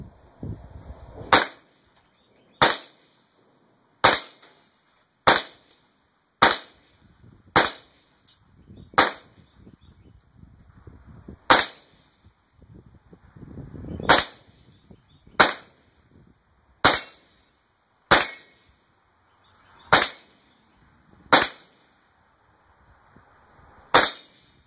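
Mossberg 702 Plinkster rifle fired with iron sights at small targets outdoors, about fifteen sharp cracks spaced a second or two apart, each with a short decay, fairly loud and with no talk between them.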